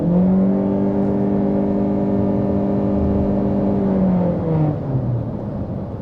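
A 2026 Chery Tiggo 4 Hybrid's engine drones steadily under acceleration in a moving car, with a constant moderate hum that holds pitch before sagging near the end.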